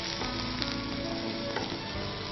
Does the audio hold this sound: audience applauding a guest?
no